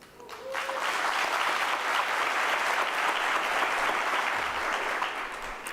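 A large audience applauds at a University of South Africa graduation ceremony, with dense, steady clapping that rises quickly and holds at full strength for the whole stretch without pause.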